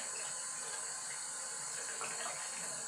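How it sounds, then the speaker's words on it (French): A tap running warm water steadily for a bath, a constant close hiss of flowing water with no pauses. "Ensuite je vais mettre de l'eau chaude là, soit de l'eau chaude, de l'eau tiède."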